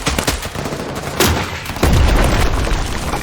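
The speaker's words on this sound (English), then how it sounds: "all of the mercenaries are running suppressed rifles. And even with the sound, suppressed weapons, they're still loud." Suppressed rifles fire in S.T.A.L.K.E.R., a dense run of loud, close muffled shots and booming reports overlapping in quick bursts, with no talking.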